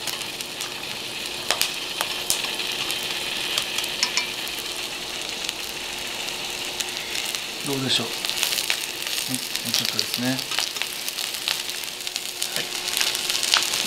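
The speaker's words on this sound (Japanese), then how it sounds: "焼ける音が聞こえてきました" Chicken and white leek sizzle steadily as they grill in a pan, a continuous crackling hiss with faint pops, while someone talks briefly in Japanese over it.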